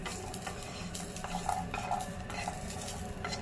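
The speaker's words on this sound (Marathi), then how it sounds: "आता आपण थोडस आलं आणि लसूण आपण भाजून घेऊ" Ginger and garlic roasting in a pan for Konkani-style stuffed brinjal, with continuous close stirring and scraping, light clinks of a utensil against the pan and a soft sizzle underneath, no voices.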